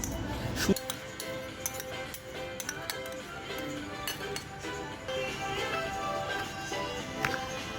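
Fresh garden salad being tossed with dressing, light clinks and taps of utensils against a bowl scattered throughout, with a voice talking over it.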